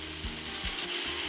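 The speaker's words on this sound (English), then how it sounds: "Add another batch of your liver and continue searing." Beef liver sears in a hot pan with a steady, close sizzle and crackle, broken by a few soft low knocks as pieces are moved; no one speaks.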